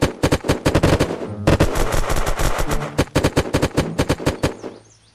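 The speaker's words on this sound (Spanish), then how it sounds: "Me empezó a disparar." Rapid bursts of automatic gunfire in the survival video game Unturned, during a hunger-games style match, loud and close with a short pause mid-stream before the shots resume, no voices over it.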